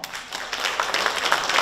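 Dense, crackling audience applause fills a short stretch at a memorial gala honouring Peking opera master Mei Lanfang, steady and moderately loud with no voices over it.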